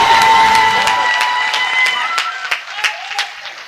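A crowd claps loudly for a poet at a Hindi poetry gathering, with sharp individual claps and some cheering. A voice or tone rings over the clapping early on, then it thins into scattered claps.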